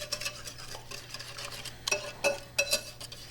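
Bread pudding custard with cinnamon, vanilla and salt being whisked in a bowl, giving soft, quick scraping strokes with a few brighter clinks of the whisk against the dish, fairly quiet and unaccompanied by talk.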